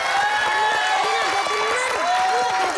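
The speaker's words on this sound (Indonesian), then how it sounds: "Oke, tepuk tangan semuanya." A studio audience on the Indonesian Family 100 game show, with school teams competing, claps and cheers in a steady noisy wash, with voices shouting over the applause.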